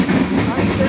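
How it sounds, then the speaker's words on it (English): A long freight train rolls past close by, a steady heavy rumble with rattling wheels and a faint hiss, loud and continuous throughout. "115 cars in that train."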